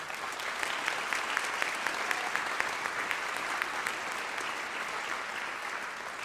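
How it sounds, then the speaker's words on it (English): Evening audience applause for teachers at the Summerlin Academy medallion ceremony, steady even clapping from a crowd at moderate volume, continuous throughout with a few crisper individual claps. "let's give them a well-deserved applause again this evening"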